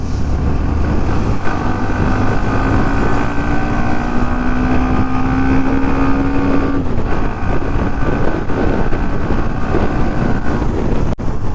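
A Hero Xtreme 125R 125cc motorcycle engine hums steadily while riding, its pitch rising as it accelerates, then dropping, with wind buffeting the microphone throughout.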